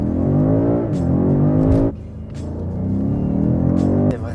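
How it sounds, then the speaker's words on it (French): From inside a BMW M5 Competition, the engine drones loudly and rises in pitch as it revs through the gears, drops sharply at a shift near the midpoint, then climbs again before another brief break. "si là on entend le son du moteur"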